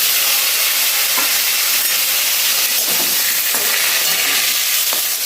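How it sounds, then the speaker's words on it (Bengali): Potatoes coated in salt and turmeric fry in a kadai with a steady, close sizzling hiss and occasional stirring scrapes throughout, no talk. "এবার আমি কড়াইতে লাল করে ভেজে নেব"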